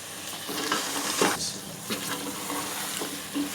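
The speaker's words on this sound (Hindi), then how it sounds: "दही भी डाल के मैंने भून लिया है पायों को" Mutton trotters fry with yogurt in a pan, a dense continuous sizzle with stirring scrapes and clatters rising over it at intervals.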